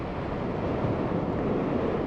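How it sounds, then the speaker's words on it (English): Steady, heavy wind buffets the microphone while riding a motorcycle into the wind, a continuous loud roaring rush with no pauses and no voices. "it's getting windy now, I'm riding into the wind"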